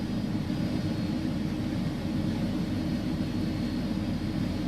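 Jet engines of an iniBuilds A300 spool up in the flight simulator X-Plane 11, producing a steady, loud, broadband roar that holds level throughout.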